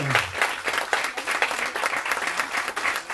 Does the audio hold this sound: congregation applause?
yes